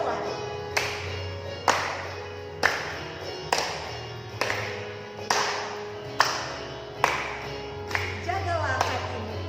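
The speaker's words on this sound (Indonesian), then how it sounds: "Tepuk tangan semua." A church congregation at a Sunday service claps along in a steady rhythm, sharp loud claps roughly once a second over a sustained musical drone and singing voices.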